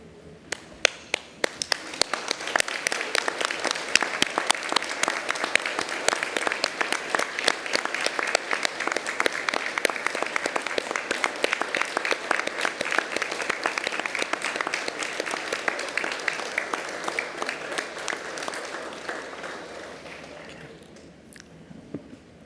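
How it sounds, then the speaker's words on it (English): A graduation ceremony audience at the University of Newcastle, Ourimbah, Australia, claps steadily for about twenty seconds, a dense, even roar of many hands that swells early and then tapers off near the end. "I ask everybody else to stand and join me in applauding the wonderful achievement"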